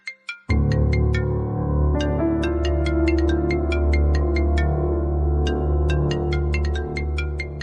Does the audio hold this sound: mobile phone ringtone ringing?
yes